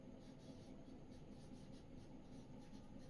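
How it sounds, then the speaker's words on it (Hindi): Faint, steady scratching of writing on a board during a Class 10 geography lesson, a soft continuous rasp with gentle repeated strokes and no speech. "और यहाँ से लिखते हैं"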